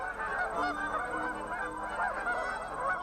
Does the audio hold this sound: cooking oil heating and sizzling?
no